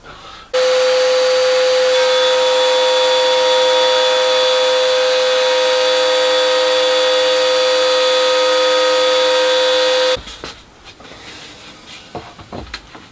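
A handheld router cuts a shallow 6mm relief along a workbench infill piece beside an aluminium section, giving a loud, steady, high whine for about ten seconds. It then cuts off, leaving quieter handling noises.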